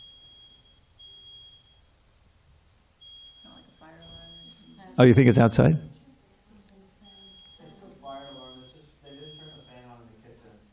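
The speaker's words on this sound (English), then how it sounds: "there's somebody's alarm to get up or something" A repeating electronic alarm beeps steadily in the background of a lecture hall, a high thin tone pulsing on and off throughout, heard under a man's speech and a brief loud burst of sound mid-clip.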